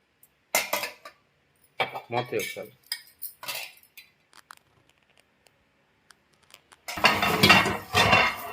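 Intermittent clatter and clinks of dishes and pots being scrubbed, with a louder, busier burst of washing noise near the end.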